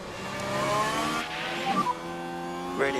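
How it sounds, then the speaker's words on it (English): In F1 Manager 24 at Bahrain, a Formula 1 car drives out onto the track, with a rising, revving engine tone, gear changes and a passing whine, moderately loud with no talk. "Lewis in his brand new car"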